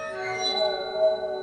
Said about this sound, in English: And it's actually filled with water, which is why it was called a water phone.